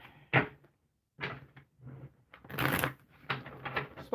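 Tarot cards shuffled quickly by hand in a few close, crisp riffling bursts separated by brief pauses, with no talking.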